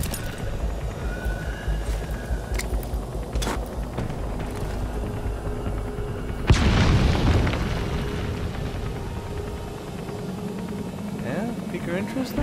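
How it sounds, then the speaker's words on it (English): Explosions in the video game Metal Gear Solid 5 Phantom Pain: a few sharp bursts early on, then one big loud boom that rumbles and fades, with someone talking over the game sound. "I'll just resort to explosions."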